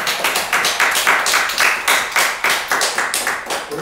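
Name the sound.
congregation clapping for the pastor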